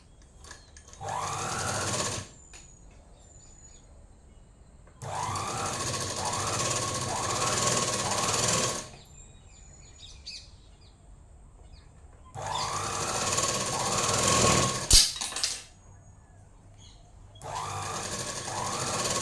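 Sewing machine stitching a folded chudidhar sleeve hem, running in four loud, rapid bursts of a few seconds each separated by quiet pauses, close up and with no talk.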